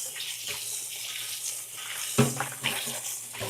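Tap water running steadily into a sink while a lobster is washed, a close, continuous rushing hiss with a few knocks and splashes near the end.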